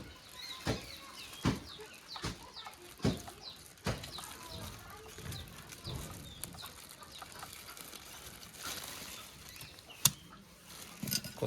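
Village chickens feed outdoors, heard as faint, scattered clucks and soft pecking taps at irregular intervals over a quiet rural background, with a distant voice now and then.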